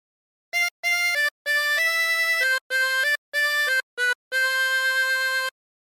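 A simple harmonica tune of separate sustained reed-like notes, some short and some held, played with brief gaps between them, clear and close with nothing else audible.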